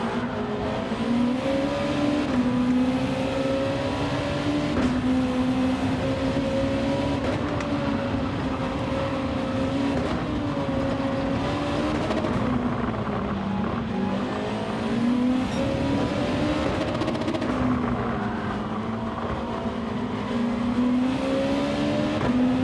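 Race cars in a Gran Turismo 7 online lobby race on cold tyres, with a loud, continuous engine whine that rises and falls through gear changes and corners, plus occasional tire squeal and no talking.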